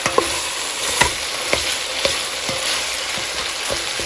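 Onions frying with garlic and spices in a pan, a steady loud sizzle with periodic scraping clicks as a utensil stirs them, close and with no talk.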